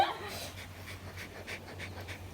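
A dog breathes heavily and pants close by, giving a run of soft rhythmic huffs over a low steady hum, with no talking.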